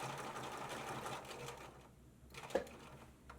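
Sewing machine stitching over an existing seam on a tote bag, a quiet rapid whirring run that stops partway, then faint clicks, close by.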